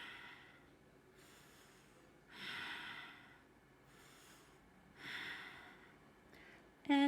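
A cleansing breath during a yoga session: slow, soft breaths in and out, airy exhales rising and falling three times, quiet and close, ending in a brief sharper sound.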